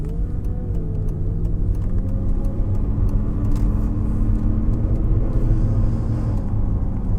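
Mercedes S600 V12 BiTurbo W220 accelerating smoothly with a possible bearing noise: deep steady engine rumble with a rising tonal whine running through it, heard from inside the car with no talking.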